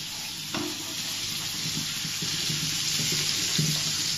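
Dry salted fish frying in hot oil, a steady close sizzle with occasional stirring and scraping clinks against the pan, no talking.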